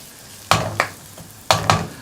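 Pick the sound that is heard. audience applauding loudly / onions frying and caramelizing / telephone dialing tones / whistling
onions frying and caramelizing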